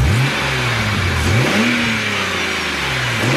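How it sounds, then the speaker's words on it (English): A BMW 1 Series petrol engine with a freer-flowing intake revs up and down twice, its pitch rising and falling, loud and close, with a breathy intake roar. "the increased sound that a freer flowing intake actually makes"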